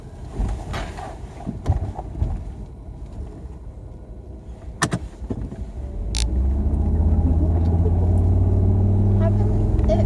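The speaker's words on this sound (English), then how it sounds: "Not running on all the cylinders." Volvo XC90 T5 engine misfiring and not running on all cylinders, heard from inside the car as a rough, uneven low rumble with wind buffeting. The rumble grows into a louder, steadier drone in the second half.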